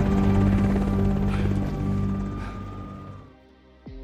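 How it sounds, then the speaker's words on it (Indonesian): A helicopter in an action film, a loud steady rotor drone with a low throbbing hum that gradually fades as it pulls away, followed by a brief sharp sound at the end. "Langston sendiri berhasil kabur dengan dijemput menggunakan helikopter"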